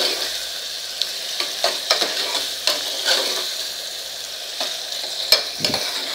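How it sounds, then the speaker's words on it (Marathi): Onion sautéing in oil in a kadhai for a drumstick curry, a steady broadband sizzle with repeated sharp scrapes and clicks of a spatula stirring, close and fairly loud, no voices. "आपला साधारण 2 मिनटं कांदा छान गुलाबी रंगावर आपल्याला परतून घ्यायचा आहे."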